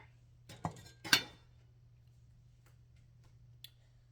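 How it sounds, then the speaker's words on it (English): A kitchen stove being switched on gives a few sharp, quiet igniter clicks, two close together early and a faint one later, over a low steady hum in an otherwise still room. "Turn the stove on, let the pan heat up."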